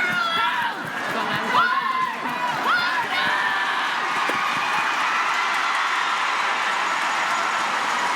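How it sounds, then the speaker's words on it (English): Arena crowd at a curling Grand Slam final erupts in loud, sustained cheering and roar for the winning team, building after a few brief announcer-like voices and holding steady to the end. "The crowd goes wild."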